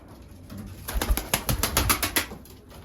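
Pigeons in a loft coo and shuffle, with a burst of wing flapping and fluttering in the middle, fairly close and moderately loud.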